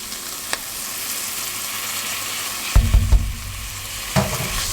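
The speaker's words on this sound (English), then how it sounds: "So now we're going to add in our garlic." Garlic going into softened onions frying in a pot brings a continuous close sizzle with a few sharp knocks and scrapes of a utensil partway through, then more stirring thumps near the end.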